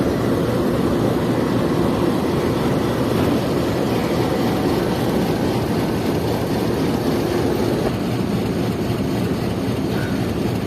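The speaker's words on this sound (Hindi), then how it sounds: "ये रावलपिंडी और लाहौर के दरमियान चलने वाली रेलगाड़ी निकल रही है रावलपिंडी रेलवे स्टेशन से" A Rawalpindi–Lahore passenger train pulls out of platform 3 at Rawalpindi railway station behind locomotive GU 24561, giving a loud, steady, close rolling rumble and roar that carries on without a break, with no speech over it.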